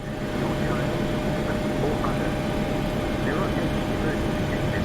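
Engine noise from a Boeing 737-800 airliner in the Prepar3D flight simulator game, a steady broadband whoosh and rumble that stays level and fairly loud, with faint radio-like voices underneath.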